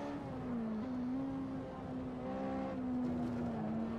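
A Ferrari 458 Italia engine in Assetto Corsa at Monza holds a steady high-pitched drone, dipping slightly then rising again under throttle, heard alone and fairly faint.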